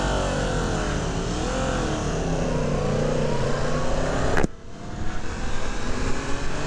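A Yamaha MT-10 SP motorcycle engine revs loud and steady on a highway, its pitch swelling and dipping before it cuts off abruptly and then returns with rougher, uneven roar; no voices.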